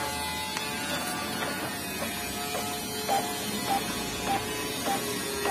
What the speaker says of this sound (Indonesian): Kita coba tes print tabel.